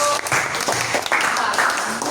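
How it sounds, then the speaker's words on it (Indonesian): A group of participants at a coding training session claps for a presenting group, a steady burst of many hands applauding up close for about two seconds. "terima kasih beri tepuk tangan untuk kelompok"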